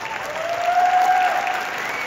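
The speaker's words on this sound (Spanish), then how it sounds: "un aplauso para todos ellos." Audience applauding at a Mexican ballet folklórico performance, a steady wash of clapping heard alone at even loudness, with a sustained tone running faintly beneath it.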